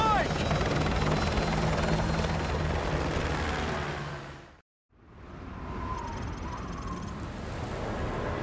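Helicopter in the video game Call of Duty Modern Warfare 2, a loud, steady rotor roar that briefly cuts out to silence midway and then resumes slightly softer, with faint game effects over it.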